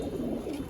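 Giribaz pigeon chicks coo in a soft, continuous low murmur at close range for a brief moment, with no voices over them.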